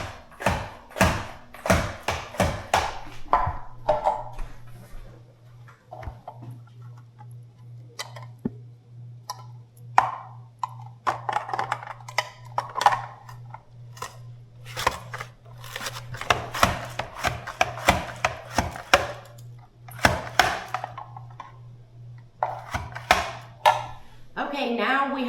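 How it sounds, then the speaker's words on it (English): Peppers sliced into rings on a cutting board, heard as a long series of sharp, close knife chops in uneven bursts with pauses, over a steady low hum. "now we have all of our peppers chopped"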